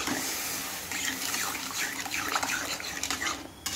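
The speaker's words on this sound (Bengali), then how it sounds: "এখন আমি এখানে জল দিয়ে দেবো" Water poured into a cooking pot during home curry preparation, a broad, splashing wash of liquid that runs steadily through the whole stretch with a few brighter spatters near the end.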